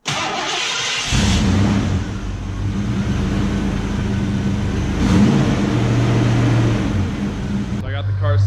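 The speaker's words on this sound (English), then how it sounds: "Set up idling right now. It's running good" A car engine idles steadily while its cooling system is bled, a loud, even rumble that rises briefly once partway through, with a voice speaking over it near the end.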